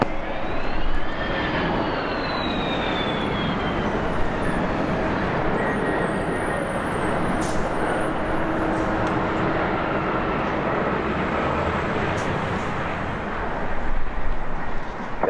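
An airliner rumbles in to land on runway 7 right at LAX, giving a loud sustained engine roar with a falling whine, steady and broad for the whole stretch.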